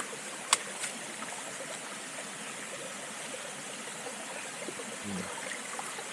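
Stream water flows steadily in a soft, continuous wash at moderate distance, with a sharp click early on and a faint low bump near the end, while crabs are being trapped outdoors.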